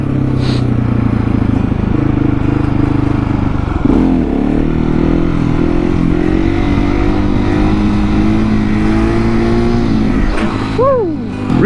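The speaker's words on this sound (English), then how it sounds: "It's kind of a longish second gear wheelie" Husqvarna 701 motorcycle engine held in second gear through a long wheelie, a steady loud drone with rising harmonics, a brief dip near the middle and a sharp rise in pitch toward the end, with faint voices underneath.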